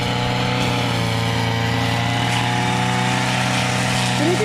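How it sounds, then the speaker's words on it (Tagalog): A grass cutter's small engine drones steadily and loudly at close range, with an even, unbroken pitch throughout. "Ayan, nagpa-practice mag-grass cutter."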